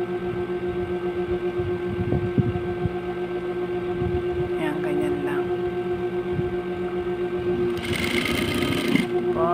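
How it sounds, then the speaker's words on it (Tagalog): A sewing machine stitches together the two ends of a fabric grocery bag, a steady close mechanical whir running throughout with a few faint clicks and handling noises. "Pagdugtungin na natin sila. Ayan. Tapos, tahiin na."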